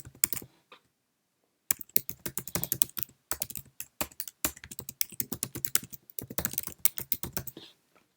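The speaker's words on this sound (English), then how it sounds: "So let's type in my work email address." Rapid typing on a computer keyboard, entering an email address: dense bursts of close, crisp key clicks with a short pause near the start and brief gaps between runs, no talking.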